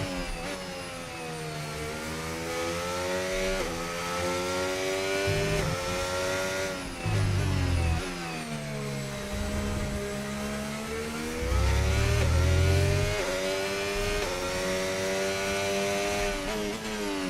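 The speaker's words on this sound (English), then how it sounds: "A lot of cars out on track already." F1 25 race cars circling the track at the Spanish Grand Prix: high, whining engines rise and fall in pitch as they rev and shift, with several cars passing over a sustained drone.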